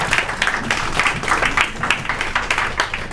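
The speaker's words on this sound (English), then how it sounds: "Everybody clapping up for Brother Rich one more time" Audience applause for a poet at a spoken-word open mic, a dense, steady wash of many hands clapping at close range throughout, with no voices over it.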